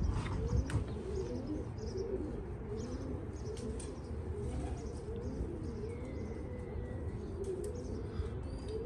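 Pigeons coo in a steady low rumble through most of the stretch, with a few faint chirps above and no talk, set against constant outdoor background noise.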